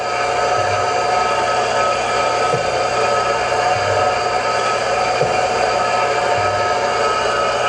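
Chevalier H818IICNC CNC surface grinder runs loudly with a steady broadband whine and hum, while the table traverses back and forth and a soft thump marks each reversal about every 1.3 seconds.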